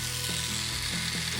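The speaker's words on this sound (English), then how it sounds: "So the drill is just a motor that's turning it." A small motor in a motorized K'nex toy drill whirs continuously and close, its pitch wobbling in a few quick dips as it turns.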